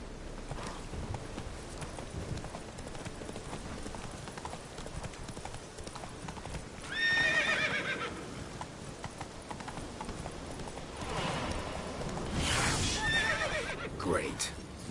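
Horse hooves clip-clop in a steady rhythm during riding, with a couple of loud whinnies and neighs rising over the hoofbeats while voices talk.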